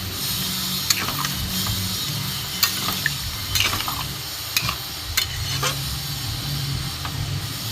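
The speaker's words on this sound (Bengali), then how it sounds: "কষানো হয়ে গেছে, এবার আমি অল্প করে জল দিয়ে দেবো।" A cauliflower and potato curry sizzles in a pan as a little water goes in. A steady close hiss of steam runs throughout, punctuated by sharp metallic spoon clicks, with no one speaking.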